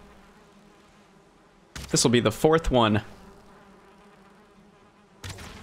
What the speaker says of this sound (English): Man, I'm just finding bees like crazy.